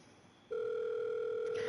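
A telephone call tone starts abruptly and holds as a steady electronic ring tone on the line, unanswered, clear and alone with no voices.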